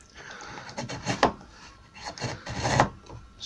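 A chisel pares into oak for a door in a few short scraping, rasping strokes, close and fairly quiet, with pauses between the cuts.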